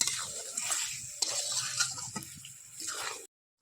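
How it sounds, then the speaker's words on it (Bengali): Chicken stir-fried with yogurt and cashew paste, a quiet wet sizzle with repeated scraping and stirring strokes, close by, cutting off abruptly at the end. "এরপর দিয়ে দেবো কাজু বাদাম বাটা, দিয়ে এটাকে একটু ভালো করে এবার কষবো।"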